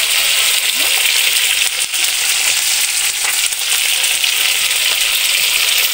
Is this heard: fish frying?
yes